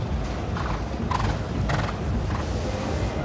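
Hooves of a show jumping horse, an eleven-year-old gelding competing in a Global Champions League round in Shanghai, clip-clop in a quick, even rhythm over steady arena background noise, with a brief whinny-like tone rising above them.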